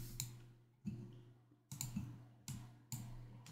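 Five sharp computer mouse clicks spaced roughly evenly, each decaying into a low electrical hum, close and quiet with no speech.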